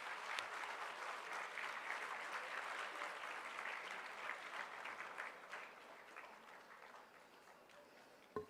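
An audience applauds at the inauguration of AIC at SOA Foundation, a sustained, fairly distant patter of many hands that slowly thins toward the end.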